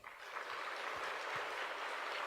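A church congregation claps during a Sunday sermon. The applause is a dense, steady patter of many hands that rises quickly and holds at moderate loudness for a couple of seconds.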